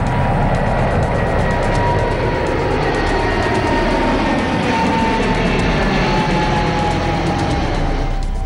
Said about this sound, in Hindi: रनवे पर थोड़ी ही देर में विमानों ने रफ्तार पकड़ी और आसमान नापने उड़ चले।